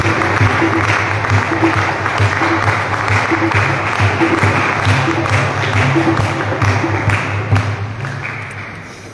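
An indoor crowd at a church Christmas celebration applauds in a loud, sustained wash of clapping that fades slightly at the end, with faint voices underneath.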